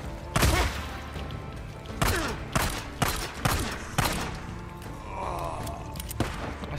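Sharp gunshots ring out in Days Gone, a series of loud individual cracks spaced roughly a second apart, each with a ringing tail, over a low ambient background.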